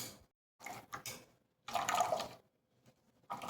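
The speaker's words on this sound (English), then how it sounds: "So I'm pressing to get my juice" Juice draining and trickling from squeezed ingredients for a Jamaican saltfish rundown, heard as three short bursts of wet liquid splashing and dribbling, close up, with quiet pauses between them.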